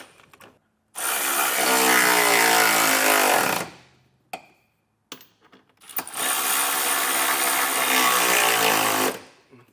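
Power tool driving trailer hitch bolts snug on a 2025 Hyundai Tucson, two long loud bursts of whirring with a short pause and a few clicks between them, close and without talk.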